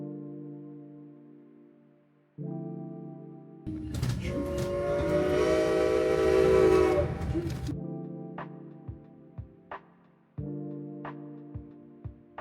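A train's whistle sounds in sustained tones as it climbs toward the White Pass summit near Skagway, Alaska, with a louder rumbling, hissing passage in the middle and scattered clanks toward the end.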